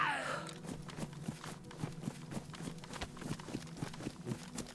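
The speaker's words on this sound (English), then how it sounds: "I heard footsteps." Footsteps in the SCUM survival game, a steady run of regular, fairly close thuds over a low droning game ambience, without any talking.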